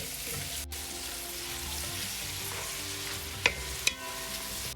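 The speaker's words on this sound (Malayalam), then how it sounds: "ഇനിയും സവോള അതിലേക്ക് ഇടുകയാണ്." Thinly sliced medium onions frying in hot oil for a Kerala-style one-pot mutton biryani, a steady close sizzle with a few sharp clinks of a spoon against the pot near the end.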